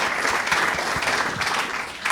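Steady applause from a comedy club audience cheering a couple married eighteen years, dense and even clapping filling the whole moment with faint crowd murmur.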